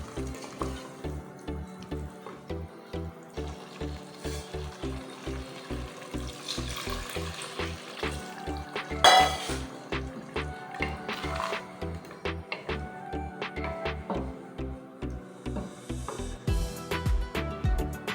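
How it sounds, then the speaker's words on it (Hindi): The chickpeas' own boiling water is poured into a cooking pot of Lahori chickpea curry, giving a continuous splashing, sizzling pour over a steady rhythmic background beat. "मैं वही पानी ऐड कर रही हूँ जिनमें मैंने इन चनों को उबाला था।"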